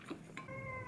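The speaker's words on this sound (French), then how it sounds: "Bah alors Yoé, c'est mon chat qui hurle à mort." A pet cat yowls indoors in the afternoon, a single drawn-out, wavering cry that sounds fairly faint and distant.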